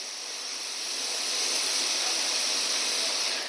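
A hot air rework station blows a steady, even hiss during laptop motherboard repair, close and continuous for a few seconds with no low rumble and no talking.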